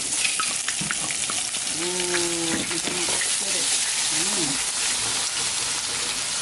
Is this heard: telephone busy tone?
no